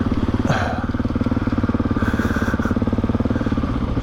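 A KTM 690 dual sport motorcycle engine at riding speed on an adventure trail ride, a loud, close, steady thumping single-cylinder pulse with wind noise over it, and a brief rev change partway through.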